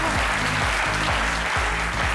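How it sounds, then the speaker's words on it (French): Studio audience clapping on a French midday TV talk show set, dense and even applause throughout, with a low repeating hum of studio music or tone underneath and no speech. "Angéline Djenya Yo, que je vous demande d'applaudir bien évidemment"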